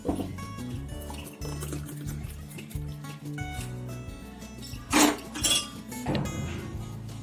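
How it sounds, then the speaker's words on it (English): Hot sprout ragi malt drink is poured from a pan into a cup, with liquid splashing and a few brief clinks, all beneath steady background music. "Now pour it in the cup."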